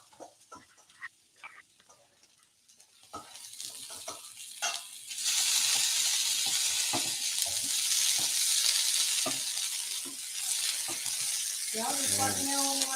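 Sauteed carrot hash sizzles steadily and loudly in a pan, a continuous frying hiss filling most of the clip after a few quieter clinks and stirring sounds at the start, with a brief voice near the end.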